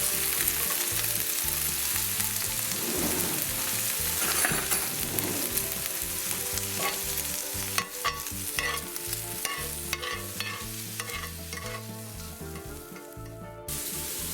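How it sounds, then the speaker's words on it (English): Steady loud sizzling of bacon and onions frying in a cast iron pan, with occasional scraping as they are stirred, no voices. "So as these are sizzling, you want to stir them and add in your chopped up onion."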